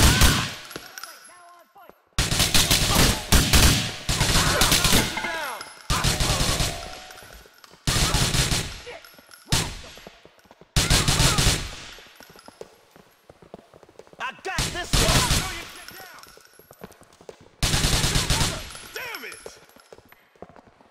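Gunfire in GTA 4 during a shootout, with repeated loud bursts of rapid automatic shots separated by brief pauses, close and dominant throughout.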